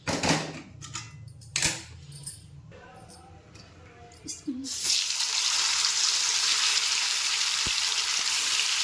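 Tikki patties go into hot oil after a stretch of clattering kitchen sounds, then a steady, fairly loud frying hiss takes over and continues close by for the rest of the clip.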